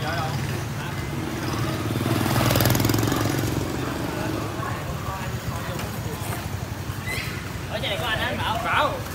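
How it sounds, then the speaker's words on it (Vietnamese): A sport motorcycle with an Akrapovic full-system exhaust rumbles close by, its engine note swelling into a louder rev before settling back, while people talk nearby. "Cái bô lên nghe coi."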